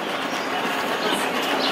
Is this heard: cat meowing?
no